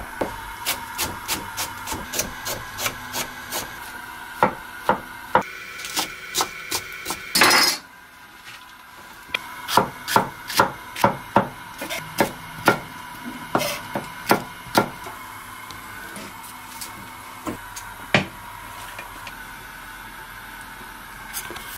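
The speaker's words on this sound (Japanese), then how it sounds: "その間にくず野菜などをザクザク切っておきましょう。" A knife chopping vegetable scraps on a cutting board while soup stock with kombu heats for spicy chicken udon: steady, crisp rhythmic knocks of blade on board, with a brief rustling clatter midway before the chopping resumes.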